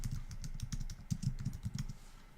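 Rapid, steady keystrokes on a computer keyboard as text is typed into a program window, close and fairly quiet, with no talking.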